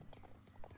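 Hooves of a horse in the video game Star Stable clip-clop softly in a quick, even rhythm, several faint hoof beats heard close by with no talking.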